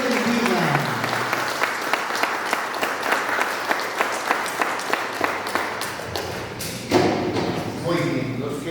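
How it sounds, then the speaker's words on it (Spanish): Loud applause rings out in a church for a woman's 50th birthday, a steady patter of many clapping hands with a few thumps, lasting several seconds before a voice cuts in near the end. "Unas palmas muy fuertes para ella."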